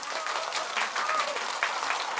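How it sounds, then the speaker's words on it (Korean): Applause from a small audience at a street busking performance, steady clapping with a few sharper claps, moderately close, with some voices mixed in. "박수 한 번만 주세요"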